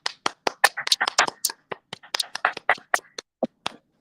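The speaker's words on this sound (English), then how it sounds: "let's clap it up for Reverend Dr." A small group of people claps for Reverend Dr. Martin Luther King Day, the sharp, irregular, close-up hand claps overlapping unevenly for about four seconds.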